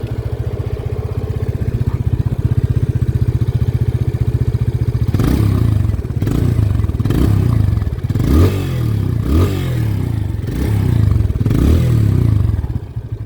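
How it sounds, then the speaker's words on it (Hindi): A Yamaha FZ-S 25 motorcycle idles with a steady low thump, then its exhaust barks through a series of sharp throttle blips, loud and close. "मैं आपको एक बार ऑन करके दिखा देता हूँ कि इसका एग्जॉस्ट नोट कैसा है।"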